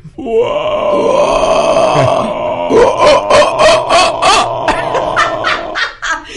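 People imitate howler monkeys with deep, rasping groans and roars, rising into a chorus of rhythmic throaty bursts that trail off.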